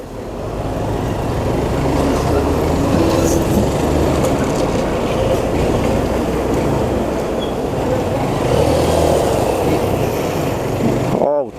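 Road traffic passes around a 2011 Fan 150 motorcycle on a sunny Saturday ride toward the BR-101 highway: a continuous, loud wash of engine and tyre noise with a brief sharp sound right at the end.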